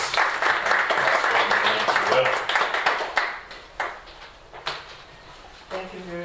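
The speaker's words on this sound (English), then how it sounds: "Can we also give a round of applause, please?" An audience at a PhD workshop claps for an incoming speaker, a burst of applause that thins into a few scattered claps and thumps as it dies away.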